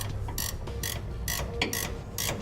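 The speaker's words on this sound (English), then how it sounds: "it's going to be easiest to tighten these top mounting bolts using a ratcheting wrench" Ratcheting wrench tightening the top mounting bolts of Air Lift LoadLifter 5000 Ultimate air helper springs, quick close clicking bursts repeating in an uneven rhythm.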